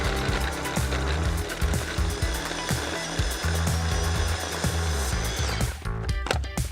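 Small food processor finely chopping prunes and mixed fruit, a steady motor whir with rapid, irregular thumping of the fruit against the bowl, close and loud, stopping near the end.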